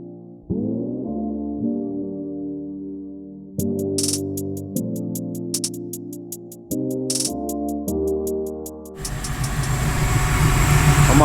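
The engine of a Chevrolet Monte Carlo CL G-body is started and left idling. Steady humming tones step up and down in pitch among scattered clicks, then a broad, louder roar builds toward the end.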